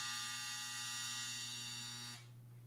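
A home clothes dryer's end-of-cycle buzzer sounds as one steady electronic drone with a harmonic edge, held for about two seconds before cutting off into a quiet room.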